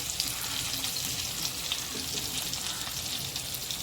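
Stuffed bitter gourds (karela) frying in oil in a pan, an even, dense crackling sizzle that holds steady and close throughout, no speech.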